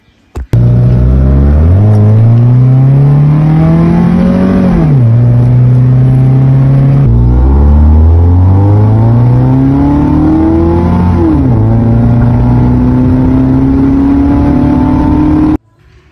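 A 1996 Honda Civic VTi with a SOHC 16-valve VTEC engine and automatic transmission revs loudly on a test drive, climbing through gears in repeated rising sweeps with drops at each shift, close and continuous.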